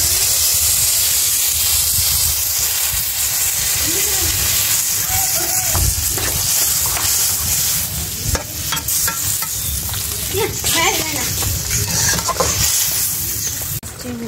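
Malabar spinach stems and potato sizzle and hiss steadily in a hot pan, with intermittent scraping and stirring clatter, close and continuous.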